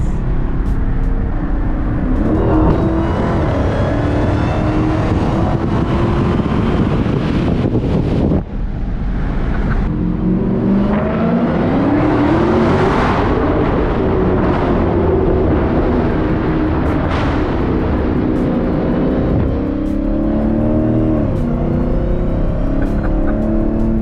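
A 2016 Dodge Challenger Hellcat's supercharged engine roaring and revving while driven, loud and close with rising and falling acceleration surges and heavy wind noise over the microphone, no talking.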